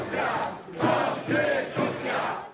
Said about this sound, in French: elle a été accueillie par les acclamations de plusieurs milliers de manifestants